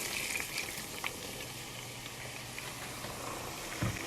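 Tomato paste and water bubbling and sizzling over browned eggplant in a pot, a soft, steady simmer with faint crackles, quiet and continuous with a small clink near the end.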